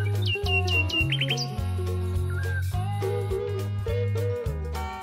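A cartoonish bird-chirp sound effect gives a quick run of high tweets in the first second and a half, riding over loud, bouncy background music that continues to the end.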